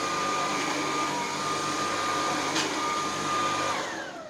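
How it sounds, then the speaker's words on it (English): A Dreametech T10 cordless vacuum cleaner runs on medium power over a medium-pile carpet, giving a steady, close whirring drone that holds level throughout with no talking. "So this nozzle does not appear to be sticking to my medium pile test carpet."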